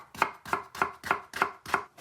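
A knife chops banana shallot on a board in six even, evenly spaced thuds, close and crisp, with no talking.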